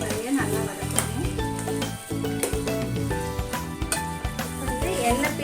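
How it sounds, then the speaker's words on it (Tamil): Masala sautéing in oil for a South Indian chicken gravy sizzles and crackles steadily, with stirring scrapes, partly under background music and a voice talking. "அந்த மசாலா வாடெல்லாம் போகிற வரைய நல்லா வதக்கணும்."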